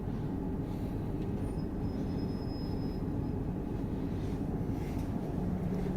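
Inside an empty GWR train carriage, a steady low rumble and hum of the moving train fills the space evenly, with a faint brief whine partway through and no voices.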